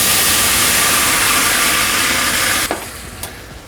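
Loud, steady sizzling hiss as gin hits a hot pan, a broad rushing fizz that cuts off abruptly, followed by a couple of faint clinks.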